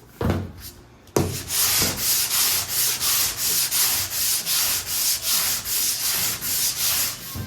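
A car body panel is sanded by hand after a dent has been tapped out from the inside. After a few taps and a start, a loud, close rasping stroke repeats in a steady back-and-forth rhythm.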